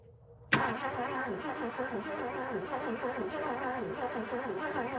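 A 351M engine cranks with a sharp burst and catches, then settles into a loud, steady idle with a rhythmic rumble, close by.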